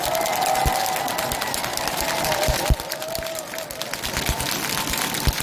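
An audience claps at a citizens' day festival concert in Namyangju, South Korea: a loud, dense, steady wash of applause for the whole stretch, with a faint sustained tone running underneath.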